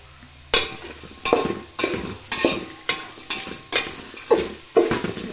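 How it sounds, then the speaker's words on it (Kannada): Pulao ingredients frying in oil are stirred in a pan. About eight regular scraping strokes are heard over a steady sizzle. The sound is close and clear, and no one speaks. "ಸೊ ಎಣ್ಣೆಯಲ್ಲಿ ಎಲ್ಲವೂ ಫ್ರೈ ಆಗಬೇಕು."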